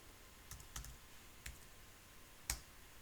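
A few isolated keystrokes on a computer keyboard, sharp clicks spaced irregularly and heard quietly alone, with the last stroke the loudest.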